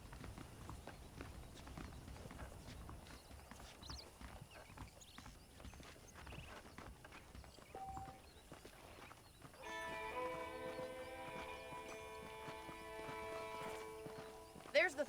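Steady clip-clop of horse hooves in Red Dead Redemption under game music and ambient noise, with a brighter tonal music layer swelling in partway through.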